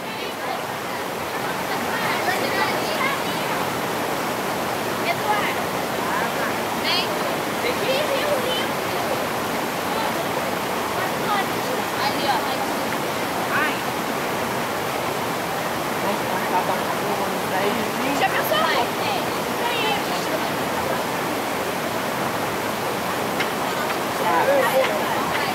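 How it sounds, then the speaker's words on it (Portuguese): A farm waterfall roars steadily on the way down to it, a constant broadband rush of falling water that fills the whole scene at close range without letup. "Estamos filmando a descida para a cascata do sítio"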